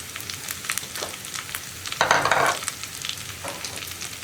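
Dried red chillies and onion sizzle in hot oil for pulissery, a steady close frying hiss with a louder burst as chillies go in and light stirring, no talking.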